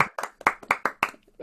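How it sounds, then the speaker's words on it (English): A small audience giving a short round of applause for two speakers after a talk on the Villeneuve manuscript: a handful of distinct, close hand claps in an uneven burst that quickly thins out. "maybe we should give a round of applause to both Jonathan and Sylvia"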